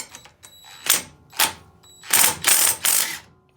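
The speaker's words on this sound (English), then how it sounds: "the first thing I'm going to do is loosen up this bolt" A bolt on a Comet clutch from a Predator 212 golf cart being loosened, several sharp ratcheting clicks in quick bursts, close and fairly loud.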